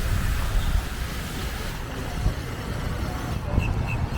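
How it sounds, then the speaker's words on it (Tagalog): Strong wind buffeting outdoors near a car show, a loud, steady roar of gusts rumbling against the microphone throughout, with no clear speech. "Super windy today."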